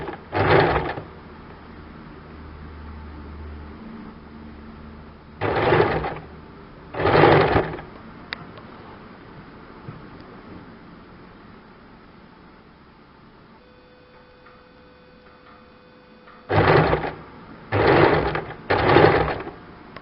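A sewing machine stitches a kurti collar neck from one end toward the center point, running in several short separate bursts with quiet gaps between them, close and fairly loud.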